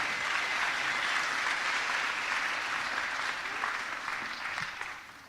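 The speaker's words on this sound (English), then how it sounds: "If everyone could give her a round of applause" A dense, sustained round of audience applause at an NSCS honor society induction ceremony, loud and even, fading slightly at the end.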